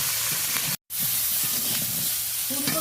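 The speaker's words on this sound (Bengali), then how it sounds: "ফুলকপিগুলো বেশ ভালো করে ভেজে নিচ্ছি" Cauliflower fries in a pan with salt and turmeric, giving a steady close hiss and sizzle with faint scraping stirs, broken by one brief dropout.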